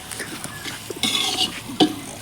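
Pork with banana stem frying in hot oil, a steady close sizzle with scraping stir strokes and clinks of a utensil against the pan, growing louder about halfway through.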